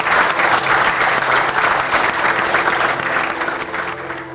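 A hall audience applauds after a speech with loud, dense clapping that starts at full strength and fades slightly toward the end of a few seconds.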